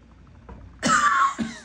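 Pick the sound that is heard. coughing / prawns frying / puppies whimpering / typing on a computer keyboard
coughing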